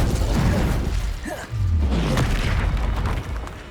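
Incendio fire spell cast in the Hogwarts Legacy video game, a loud whooshing blast with booming low rumble and crackling burst, amid continuous dense combat effects.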